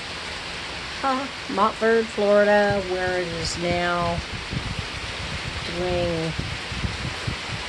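Steady rain falls outdoors in Florida, a dense broadband hiss running through the whole stretch, with a person talking over it for much of the time.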